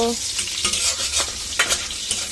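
Green chilies fry in a pan while being stirred, with a close crackling sizzle and several quick scraping stirs.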